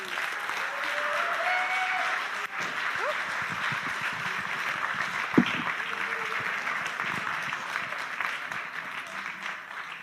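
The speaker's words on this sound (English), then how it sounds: "Round of applause for all of our speakers, please." An audience at an evening storytelling event applauds its speakers, with steady broadband clapping filling the room for about ten seconds and a brief sharp knock partway through.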